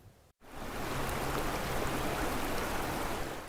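Creek water flowing in Boulder, Colorado, a steady broadband rush that starts after a brief dip and holds even and fairly close with no voices.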